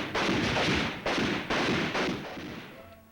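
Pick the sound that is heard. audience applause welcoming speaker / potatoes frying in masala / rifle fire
rifle fire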